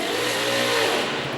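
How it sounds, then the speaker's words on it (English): A V8 speed car engine being run up at a race circuit, a loud steady high-revving drone held throughout at close range with no voices. "That sounds like a speed car V8 being run up."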